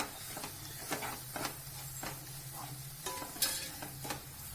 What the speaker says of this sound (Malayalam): നമുക്ക് വറുത്ത് വെച്ച അണ്ടിപ്പരിപ്പ് മുന്തിരിയും കൂടി ഇട്ടിട്ട് നന്നായിട്ടൊന്ന് മിക്സ് ചെയ്യാം